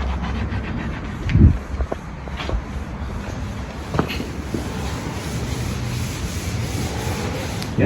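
Sandpaper rasps steadily across the roof of a 1984 VK Commodore, a close, continuous gritty scraping with a few heavier knocks and bumps and no talking.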